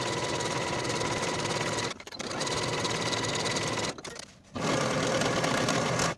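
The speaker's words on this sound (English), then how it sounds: "Sew this seam with a stretch stitch and a 5/8 inch seam allowance and then finish the raw edges." Sewing machine running a stretch stitch along a yoke seam on pull-on pants, loud and close in three sustained bursts separated by short pauses.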